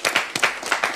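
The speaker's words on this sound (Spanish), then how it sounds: "Un aplauso" A studio audience on a TV show gives a short burst of lively applause, several quick rippling claps close together.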